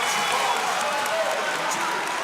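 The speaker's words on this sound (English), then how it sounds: "The crowd's getting involved." A college men's basketball crowd in a gym cheering and applauding, a steady roar of claps and voices throughout, with a commentator talking over it.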